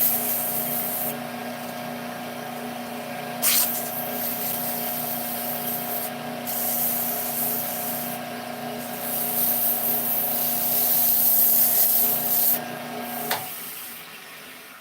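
Sandpaper held against a spinning wooden top on a woodturning lathe, a steady hissing rub over the motor's constant hum, with a few brief clicks and knocks, close and fairly loud.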